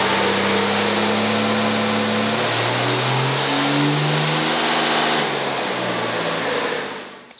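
A Cummins diesel truck engine revs hard on a dyno, a loud, sustained roaring pull with a rising, shifting drone that eases off at the end.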